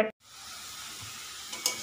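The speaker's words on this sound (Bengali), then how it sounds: "এখানে আমি মচমচে করে আলু ভাজা বসিয়ে দিয়েছি" Potatoes fry crisp in a pan with a constant soft, hissing sizzle heard up close, with no talk over it.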